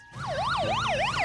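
A cartoon police car siren wails in a fast, rising and falling sweep, loud and close, starting abruptly after a brief quiet moment over a low rumble.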